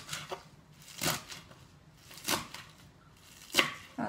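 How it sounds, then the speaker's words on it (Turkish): A knife chops purslane stems on a board in four or five crisp, evenly spaced strikes about a second apart, close and fairly quiet with no talk. "Sap kısmını birazcık küçük terek doğruyorum ama uçlara doğru biraz daha."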